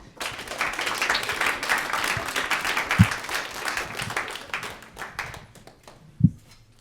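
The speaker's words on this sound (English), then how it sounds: "Let's give them another round of applause." An audience at a student government executive candidate forum gives a round of applause, a moderate wash of clapping that swells and slowly fades, with a couple of sharper isolated claps and thumps near the end.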